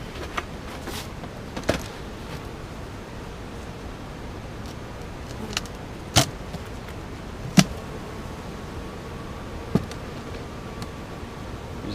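Honey bees buzz around an opened hive during an inspection, a faint, steady outdoor drone broken by a few sharp clicks and knocks, with no one speaking.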